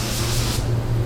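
Steady hiss of a spray gun applying matte car paint at 31 PSI, a continuous broad airy rush with a low compressor hum beneath, no pauses.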